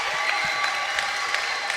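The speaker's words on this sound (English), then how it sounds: "The celebration, the crowd are cheering." A futsal crowd at a Northern Ireland v Scotland international friendly celebrates a goal with continuous applause and cheering, dense and fairly loud, with a few sharper claps standing out.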